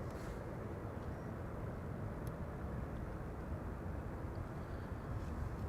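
A Transavia passenger jet arriving from Salzburg on approach to Amsterdam Schiphol airport, with a steady, faint, distant broadband engine roar holding constant throughout, heard from outdoors.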